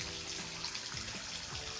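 Hot water streams steadily from a Delta T17 Series faucet onto a thermometer held under the tap, a continuous close splashing rush with no voices.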